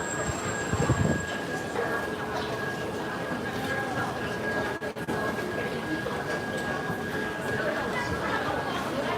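Inside a Taipei Metro MRT station, a steady rumble of a train with a high tonal whine runs under continuous crowd chatter and nearby voices.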